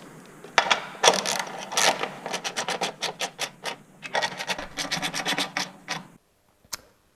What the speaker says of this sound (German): dann können wir die Rohre hier noch längs verschieben und entsprechend dann festschrauben